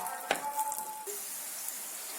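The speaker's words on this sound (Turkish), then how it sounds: "Şimdi pirinçlerimizi iyice kavuracağız" Rice toasting in a hot pan with oil for chicken and chickpea pilaf gives a steady, soft sizzle after a brief clatter at the start.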